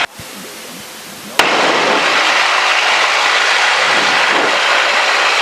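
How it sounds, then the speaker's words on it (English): A Cessna 172 engine throttles up to 1700 RPM for a run-up check, jumping from a quieter idle to a loud, sustained propeller roar after a sharp click about a second in. "We're going to go for full mixture rich and throttle up to 1700 RPM."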